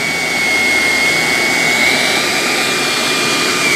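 A Shark Apex vacuum fitted with the TruPet mini-motorised pet attachment runs in a loud, steady whine with a sharp high-pitched tone held throughout, close and continuous with no talking.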